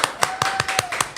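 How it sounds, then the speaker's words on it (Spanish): Slow, evenly spaced hand claps, about six in just over a second, in a studio as a congressman is welcomed to a TV interview; a faint steady tone runs underneath and no one speaks. "Quiero dar un fuerte aplauso y una gran bienvenida al congresista Américo Gonza"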